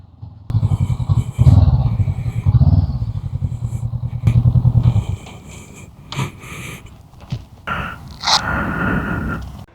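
A motorcycle ridden up near a garden and parked, its engine rumbling loudly and close before cutting out, followed by scraping, clattering handling sounds and a faint breath.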